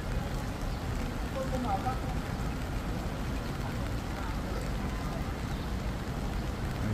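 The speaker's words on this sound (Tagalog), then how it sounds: "Tapos tuloy-tuloy pa rin ang ulan." Heavy, steady rain pours during a downpour over the Marikina River near a bridge, a dense continuous wash of noise filling the whole stretch at moderate level without a break.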